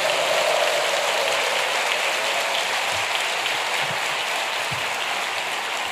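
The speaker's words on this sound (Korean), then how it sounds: "나오실 때 함성과 함께 뜨거운 박수로 모시겠습니다" Congregation welcoming a pastor to the pulpit at a church dedication worship service with loud, dense applause and a wash of cheering, steady and close throughout with no speech over it.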